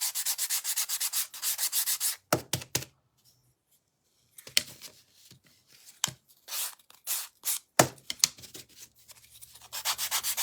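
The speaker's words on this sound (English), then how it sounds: "just sanding them. This is with my nail file." Repeated scratchy rubbing strokes of a nail file sanding edges, coming in short bursts with brief pauses between, close and fairly loud.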